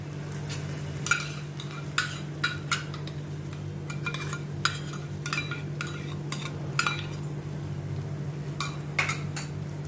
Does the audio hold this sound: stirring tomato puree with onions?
yes